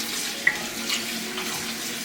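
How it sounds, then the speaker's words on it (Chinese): Tap water runs steadily over pork ribs being rinsed clean after a starch rub, a continuous close splashing stream in a kitchen sink with a brief clink near the start, no talking. "先抓捏一会儿，然后再用清水冲洗。"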